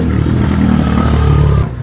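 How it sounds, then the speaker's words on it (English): Loud two-wheeled scooter engine running and revving nearby on a street outside a cafe in the Philippines, a steady throaty drone that cuts off sharply near the end. "I never understood why people make scooters so loud."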